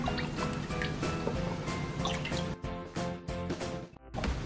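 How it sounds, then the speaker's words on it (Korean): Water drains and drips steadily from soaked, softened dried zucchini resting in a sieve, with a close, continuous trickle and scattered small splashes, no voices. "체에 받쳐서 자연스럽게 물기를 빼주시면 된답니다"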